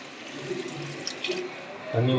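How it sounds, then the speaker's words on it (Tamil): Water being poured into a cooking pot in a home kitchen, a steady running splash that swells louder near the end, with a voice talking faintly underneath. "இப்போ வந்து நம்ம தண்ணி ஊற்றிக்கலாம்."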